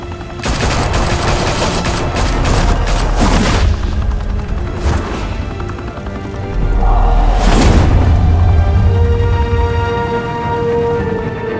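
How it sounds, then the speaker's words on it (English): Gunfire rattles in the Batman Telltale Series video game, with dense bursts of shots and heavy booms coming in repeated waves, loud and close. "Open fire!"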